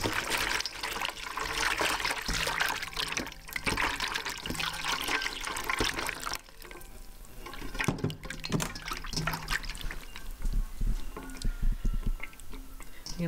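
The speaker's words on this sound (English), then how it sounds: "Just going to give them one more rinse." Pumpkin seeds being rinsed in water, with continuous sloshing, trickling and splashing as the seeds are swirled and stirred by hand, close and fairly loud, with a brief pause midway before the wet churning resumes.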